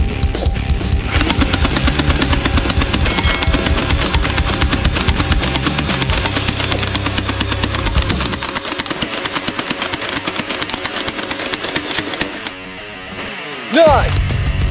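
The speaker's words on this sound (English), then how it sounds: "Machine gun!" Toy multi-barrel machine gun firing in rapid, continuous electronic bursts for about twelve seconds, loud and close, then cutting off before a brief final burst.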